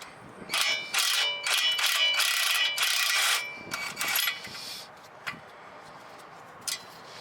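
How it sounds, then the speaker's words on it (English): A ratchet loosens the 19mm upper ball joint nut on a Jaguar XJ6 suspension, with several bursts of quick metallic clicking up close, then a few scattered clanks and taps as the work slows. "Remove the 19mm upper ball joint nut."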